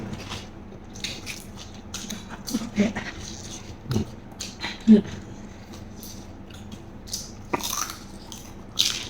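Someone bites and chews crispy fried frog with spicy papaya salad, close crunchy bites and wet chewing scattered through with irregular loud crackles, over a low background hum with occasional soft voices.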